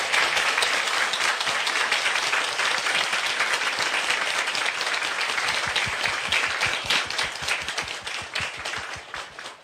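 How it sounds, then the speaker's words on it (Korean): A large audience applauds for an outgoing Mapo district mayor at his farewell ceremony. The clapping is dense and sustained throughout, thinning into more distinct individual claps toward the end. "다시 한번 박수 부탁드리겠습니다"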